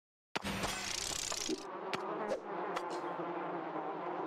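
Loud, steady insect-like buzzing of a bee in the video game Wanba Warriors, starting abruptly and droning on with a few short clicks and taps over it.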